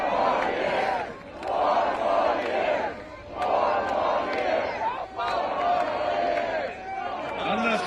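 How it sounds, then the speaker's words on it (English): A large crowd at an outdoor political campaign rally in Flint, Michigan chants and cheers in rhythmic waves, loud and close, with brief pauses between bursts. "The lady wearing a UAW sweatshirt started cheering for the USMCA."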